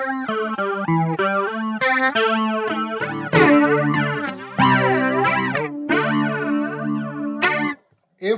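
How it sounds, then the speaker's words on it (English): Electric guitar run through an Electric Mistress flanger pedal set to a fat, wide sweep, playing a melodic phrase with a swirling, jet-like modulation sweeping across the notes, loud and close with no talk. "This, of course, is the Electric Mistress"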